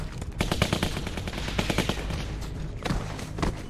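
An AK rifle fires in The Walking Dead video game, loud rapid bursts of automatic gunfire with booming low thuds, with a fresh burst near the end.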